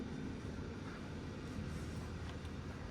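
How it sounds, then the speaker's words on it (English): KONE EcoSystem MR traction elevator EcoDisc hoist motors running at 700 feet per minute in San Jose City Hall, heard as a steady low machinery hum and rumble throughout, without voices. "You can hear the EcoDiscs up there."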